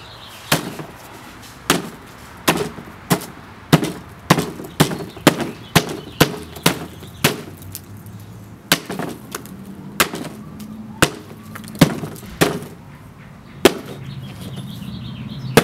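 School projects being smashed with a weapon: a rapid series of sharp, loud impacts and cracks, about twenty blows at an irregular, roughly half-second to second rhythm, close by with no talking.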